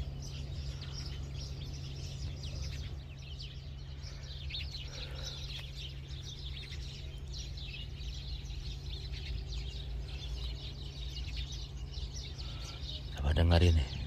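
A sooty-headed bulbul calls overhead with faint, high chirps scattered over a low steady hum, and voices come and go nearby.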